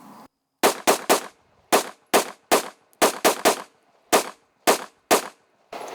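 Rapid pistol shots from a handgun with a red dot sight crack loudly in groups of three at an outdoor range, about a dozen sharp reports with short pauses between each burst.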